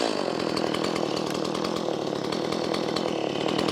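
A chainsaw runs steadily at close range, its motor holding a constant, loud, buzzing drone with no pauses.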